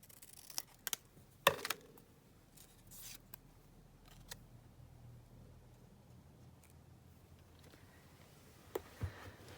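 Scissors cutting paper for an art journal page, giving a few sharp close snips early on and a couple more near the end, with quiet room tone in between and no talk.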